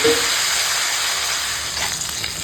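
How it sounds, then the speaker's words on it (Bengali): Cut eggplant frying in hot oil with green chili and black cumin tempering, a loud, dense, steady sizzle heard close and alone. "দেখো এখন বেগুনটা ভাজা হয়ে গেছে ফোড়নের সঙ্গে"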